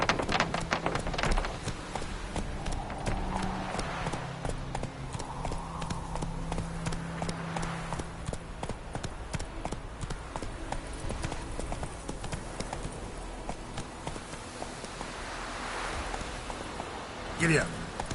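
Horse hooves clip-clop in a steady galloping rhythm across a Witcher 3 game landscape, running continuously and fairly loud, with a faint tonal hum and occasional speech mixed in.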